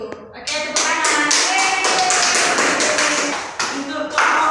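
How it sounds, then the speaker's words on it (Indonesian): A classroom of pupils claps together in a quick, rhythmic burst of hand claps, with young voices calling out over the clapping. "tepuk tangan"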